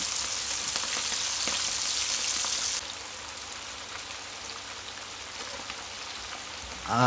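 Dense, even sizzle of prawns frying in hot oil for an Andhra-style prawn fry, a close crackling hiss that softens slightly partway through, with a brief clatter at the very end.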